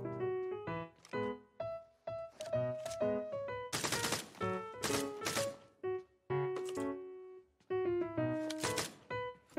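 Rapid bursts of automatic gunfire from the battle royale game Game for Peace, loud and close, firing in repeated volleys with short gaps and a heavy sustained spray in the middle, with no talking.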